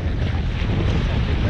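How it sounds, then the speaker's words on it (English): Strong water current rushes and churns past a boat held in place by a trolling motor anchor lock, a steady broadband wash with wind buffeting the microphone, loud and continuous throughout. "That is some wicked current."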